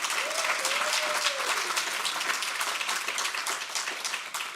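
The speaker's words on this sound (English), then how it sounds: "give them a round of applause to support what they do" Quiet, distant applause at an AIDS conference members' meeting, steady and sustained, with a brief whistle or tone early on.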